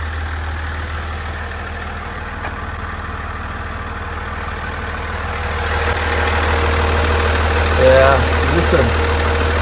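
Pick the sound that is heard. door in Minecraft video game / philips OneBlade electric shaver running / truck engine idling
truck engine idling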